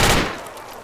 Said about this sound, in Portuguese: Tô levando tiro aqui, cara.